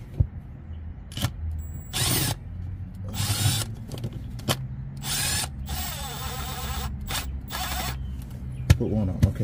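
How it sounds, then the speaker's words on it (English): A power drill driving screws back into a BMW transmission pan, several short whirring bursts of varying length with pauses and clicks between, close up, with occasional speech and workshop noise. "We're going to proceed to put all 24 screws back in."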